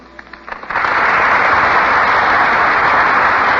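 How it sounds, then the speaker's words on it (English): A radio studio audience bursts into loud, dense applause after a few scattered early claps, sustaining a broad continuous roar of clapping close to the microphone. "The audience bursts into applause"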